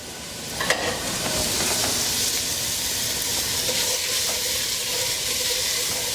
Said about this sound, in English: We're going to go ahead and get that sauteed up.